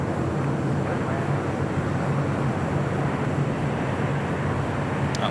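A jet airliner departing at LAX, heard from a distance as a steady, broad roar that holds evenly through the moment, moderately loud against open-air background.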